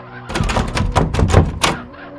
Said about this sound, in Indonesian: langsung kembali ke kamar, mengunci pintu